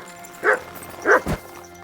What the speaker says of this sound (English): No one wants to hear your barking.